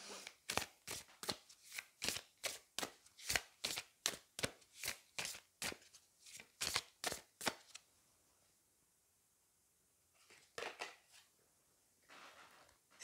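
Oracle cards are shuffled in a rapid series of crisp riffling snaps, close and rhythmic, followed after a pause by a few softer flicks as a card is drawn.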